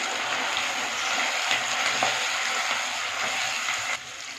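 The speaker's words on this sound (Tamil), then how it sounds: "அடுத்து வந்து ஒரே ஒரு தக்காளியும் போட்டு நல்லா வதக்கி விடலாம்" A single tomato sautés in hot oil for an aloe vera tamarind curry, a dense, close frying hiss with light stirring scrapes that drops in level near the end.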